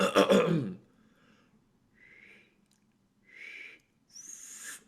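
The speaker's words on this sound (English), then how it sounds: "Here's me trying to whistle." After a brief throaty noise, three thin, breathy whistle attempts come out, airy and wavering, separated by short silences.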